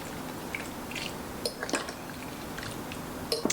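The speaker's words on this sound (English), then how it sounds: "And then we're just going to give that a good stir." Shrimp, still partly frozen, stirred in a pan: soft scattered clinks of a utensil against the pan with light wet squishing, fairly quiet and sparse, no talking.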